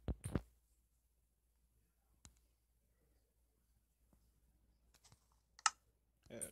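Keys on a computer keyboard are pressed to enter a command in Minecraft, heard as a few faint, sparse clicks separated by long quiet gaps, with a short cluster at the end.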